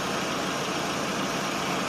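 A Chevrolet Aveo engine idling during an air-conditioning refrigerant refill, a steady close rumble with a constant hum and no speech.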